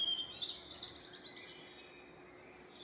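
Spring birds in May, among them starlings, swallows and tits, with a quick run of bright chirps and tweets in the middle, fairly close against a quiet background, followed by a thin sustained whistle.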